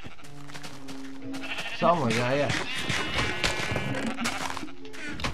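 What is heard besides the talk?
sheep bleating in the video game Minecraft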